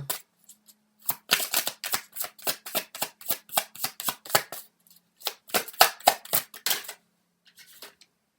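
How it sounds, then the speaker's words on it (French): Tarot cards are shuffled and drawn by hand in a quiet room, a close run of rapid crisp riffling flicks in two bursts separated by a short pause, ending with a few faint card slides. "Donc on va sortir une dernière carte."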